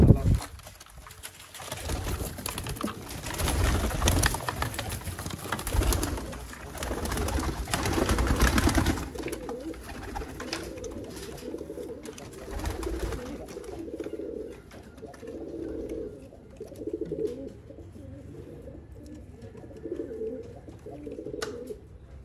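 Sialkoti pigeons coo in soft, repeated low calls, rising in the background after a louder stretch of talk and rustling nearby.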